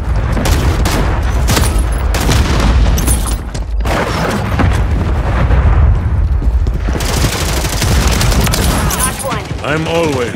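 Grenade explosion in Call of Duty Modern Warfare 3 multiplayer, heavy booms among constant loud gunfire and battlefield noise, with voices calling out over the dense combat din.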